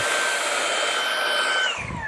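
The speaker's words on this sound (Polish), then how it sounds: "Chyba że odkurzamy stół." A Xiaomi G9 cordless vacuum cleaner whines steadily at high pitch close by, then its tone shifts and drops near the end as the suction changes, with no speech.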